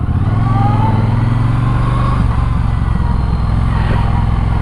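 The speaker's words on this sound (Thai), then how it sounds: "แต่เสียงนี่เราใจมาก เครื่องสองสูบวีทวิน" A Triumph Bonneville Bobber 1200 twin-cylinder motorcycle engine runs loud and close, a continuous deep throbbing rumble holding steady throughout without pause or speech.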